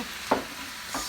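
Water chestnuts sizzle in a hot frying pan while being stirred, giving a close, continuous hiss broken by two quick scraping strokes.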